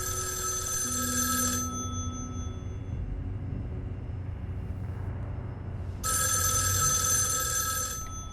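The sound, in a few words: telephone ringing in the video game Erica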